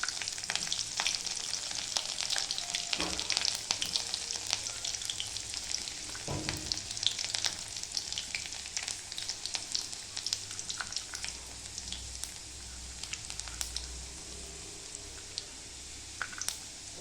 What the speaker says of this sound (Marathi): आता मोहरी आपली कडकडली. लसूण टाकतात.